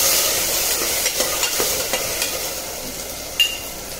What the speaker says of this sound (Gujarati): એટલે આપણે તેમાં ઝીણા સમારેલા દૂધી અને બટેટા નાખીશું। તેને આપણે મિક્સ કરીશું।